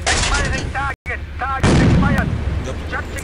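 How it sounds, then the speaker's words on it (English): Tank cannon fire in the 1999 PC tank simulator Panzer Elite, with heavy booming shots and a deep rumbling blast, mixed with radio voices talking between them. "Understood. Firing at will."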